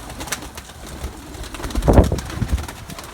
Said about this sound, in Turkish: Yaklaşık burada 70 adet güvercinimiz vardır.